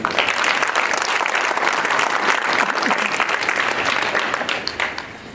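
An audience of a Sierra Leone delegation gathering in New Jersey gives the team a loud round of dense clapping, sustained and then tapering off at the end.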